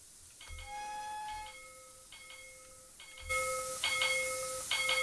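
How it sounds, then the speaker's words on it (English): A GWR autotrain's warning gong in Train Simulator rings in short repeated bursts of bright metallic tones, separated by pauses, joined partway through by a loud hiss of steam beneath the later strikes. "That's the little warning gong."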